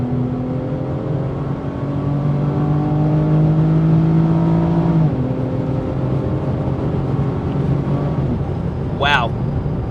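A supercharged 2017 Holden VF SV6 pulls hard under acceleration, a loud steady engine drone with rising whine that shifts pitch midway, heard from inside the car as people talk over it.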